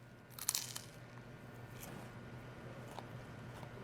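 Biting into a frozen saltine cracker gives a sharp crisp crunch near the start, followed by quieter chewing, close and faint with no talking.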